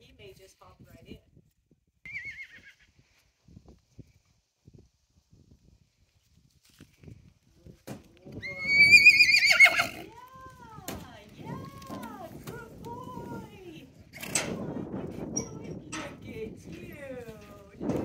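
A colt whinnies loudly and repeatedly during loading into a horse trailer, with high neighs carrying over hoof thumps and clatter on the trailer floor. Quiet voices speak in the background.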